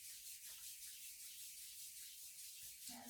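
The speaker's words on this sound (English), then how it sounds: "rub the hands together in a circle" Two palms rub together in slow circles, a soft, steady hissing swish close by and faint, with no talk.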